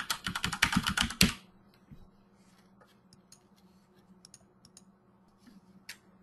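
Rapid burst of computer keyboard typing up close for about a second, followed by scattered single key clicks spaced out over a quiet room background; no one speaks.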